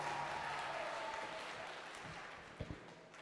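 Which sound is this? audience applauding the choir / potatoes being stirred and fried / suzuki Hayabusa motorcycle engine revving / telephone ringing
audience applauding the choir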